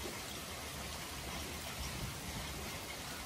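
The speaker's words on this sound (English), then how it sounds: "The rain is not going to last too much longer." Steady rain falls outdoors where young animals lie down together, a continuous even hiss with no pauses, moderately soft and unbroken throughout.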